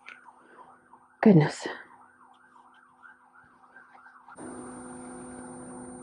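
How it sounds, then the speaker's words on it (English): Police car siren wailing in a steady up-and-down cycle at moderate distance, briefly under a spoken exclamation, then giving way to a louder steady hum. "Oh, now we have a police car."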